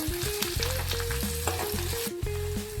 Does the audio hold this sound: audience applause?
no